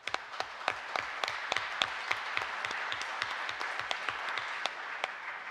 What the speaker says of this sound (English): You should applaud yourselves for being here